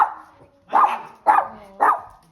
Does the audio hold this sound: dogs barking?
yes